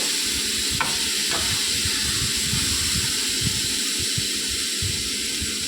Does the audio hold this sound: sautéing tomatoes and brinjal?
yes